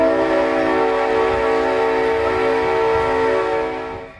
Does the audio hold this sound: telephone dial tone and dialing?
no